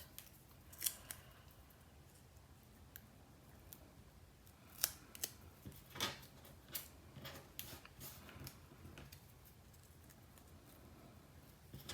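Scissors snip through paper to cut out small flower petals, giving a quiet run of light crisp cuts, sparse and irregular, near and alone with no talk.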